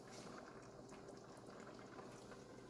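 Sweet and sour Goan vegetable curry of pineapple, jackfruit and mango boiling in a pot on high heat, a quiet, continuous bubbling with soft irregular pops, heard alone without voices.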